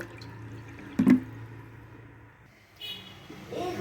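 Water pours into a bowl to soak cashews and raisins in a home kitchen, making a short splash followed by a gentle trickle and faint running water nearby.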